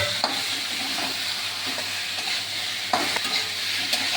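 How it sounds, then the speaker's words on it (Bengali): Taro stolons (kochur loti) sizzle and fry in a pan with spices while being stirred, a continuous hiss broken by a few scraping strokes of the spoon. "এবার ভালো করে মশলার সাথে কষিয়ে নেব"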